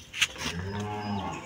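A Holstein Friesian cow on a farm gives a single long, low, droning moo that carries through the whole moment at moderate loudness, with a brief sharp click near the start and no voices.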